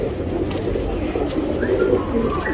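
Racing pigeons coo softly and repeatedly close by, with low murmuring calls over faint background noise.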